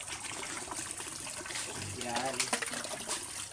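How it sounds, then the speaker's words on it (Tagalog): Water poured for piglets on a farm, a gushing, splashing stream heard close up under steady background noise, with a person talking over it. "Lagyan ko na ng tubig mga kababoy."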